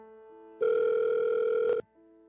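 A telephone rings for an incoming call, a single short electronic tone burst heard clearly and alone, with quieter tones just before and after it.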